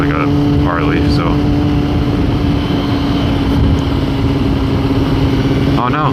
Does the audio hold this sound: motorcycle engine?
yes